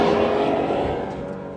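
An Acura NSX 3-liter V6 screams at high revs toward 8,000 RPM in one loud, brief burst that tails off slightly.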